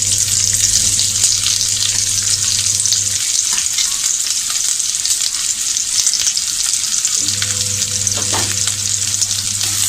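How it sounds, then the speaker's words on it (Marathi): Onion for palak paneer sautés in a pan with a loud, steady sizzle and crackle, while a utensil stirs it in bursts with scraping and faint clinks, all continuing without any talk. "कांदासुद्धा आपल्याला व्यवस्थित असा छान परतून घ्यायचा आहे"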